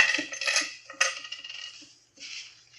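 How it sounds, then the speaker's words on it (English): Keys and coins from someone's pockets are set down on a table: several light metallic clinks and jingles in quick bursts, close and clear, with a short pause before a final rattle. "take everything out of your pockets. Put it right down here."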